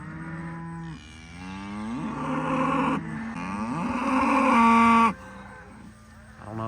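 A black cow of the Mashona cross herd moos repeatedly on a farm, long loud calls rising and falling one after another, close and clear with no talk.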